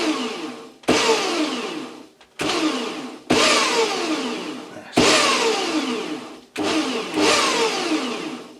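A Scheppach MBS1100 bandsaw switched on and off repeatedly, each start a loud motor whine that rises sharply then winds down, about five runs in a row, close and with no talking.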